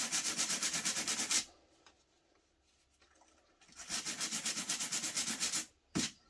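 Part from a Lucas starter solenoid on a Massey Ferguson 50 tractor rubbed clean in two bursts of fast, rhythmic scrubbing strokes up close, separated by a quiet pause and ending with a short final rub.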